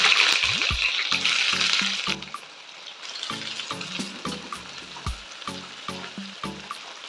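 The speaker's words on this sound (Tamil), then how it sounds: "நல்ல கோல்டன் ப்ரௌன் வர வரைக்கும் நல்லா வறுத்து எடுக்கணும்" Onions frying in hot sesame oil for a Hyderabadi chicken fry, a steady loud sizzle with intermittent stirring scrapes and clatters throughout.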